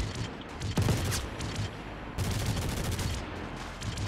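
Rapid gunfire from a squad training firefight in the Star Citizen video game, with repeated bursts and overlapping shots that rattle steadily throughout, loud and close with a dense, sustained texture.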